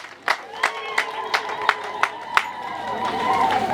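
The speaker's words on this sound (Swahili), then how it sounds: "Makofi na vigelegele." At a women's singing festival, an audience claps in a steady rhythm of sharp, evenly spaced beats, while a high trilling ululation swells up toward the end.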